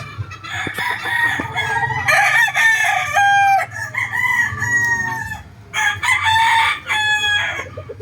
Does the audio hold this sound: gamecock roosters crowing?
yes